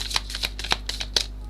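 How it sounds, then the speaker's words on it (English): Tarot cards being shuffled during a live reading: a run of quick, crisp riffling flutters and soft slaps in an irregular rhythm, close up and alone. "I'll shuffle once more"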